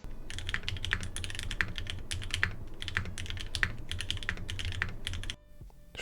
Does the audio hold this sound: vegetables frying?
no